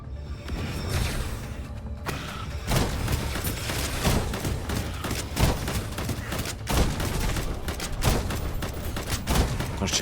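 Rapid, continuous gunfire from the roguelite MOBA game Shape of Dreams, a dense loud stream of shots with thumps and whooshes throughout, no speech.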